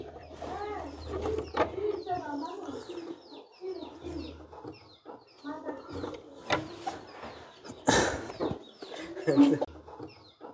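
Pigeons in a coop coo in soft repeated throaty rolls, close by and fairly quiet, with scattered clucks and rustles and a louder flutter near the end.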